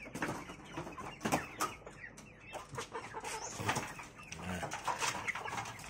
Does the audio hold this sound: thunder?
no